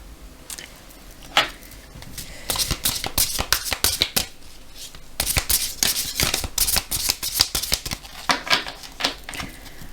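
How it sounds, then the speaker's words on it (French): An oracle card deck is cut and shuffled by hand, giving a run of crisp, rapid card riffles and snaps up close, with short pauses between bursts and no talking. "On coupe et ce sera celle-ci."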